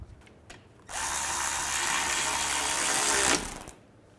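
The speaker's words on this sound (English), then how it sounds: "now I'm going to tighten those two bolts" A power tool whirs steadily for about two and a half seconds while tightening control arm bolts on a Chevy Cruze, loud and close, with a few faint knocks before it and a short ratchety tail as it stops.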